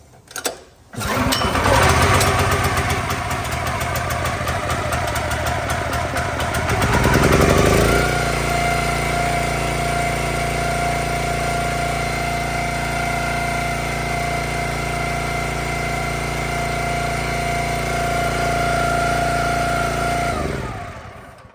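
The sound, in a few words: Kohler-powered 30-ton log splitter engine at full throttle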